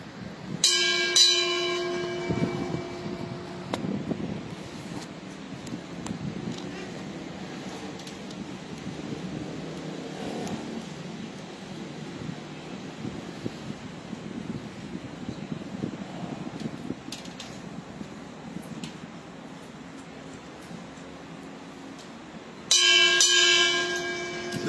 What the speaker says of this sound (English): This ends the two-bell ceremony.